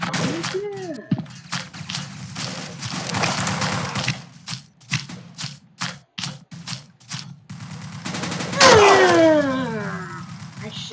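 Gunfire and mortar blasts in the video game Blockade 3D come as a rapid series of sharp, loud shots and bursts, followed by a heavier explosive whoosh, with a player talking between them.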